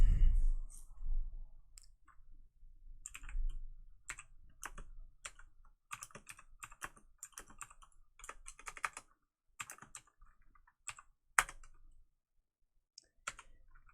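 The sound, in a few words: typing on computer keyboard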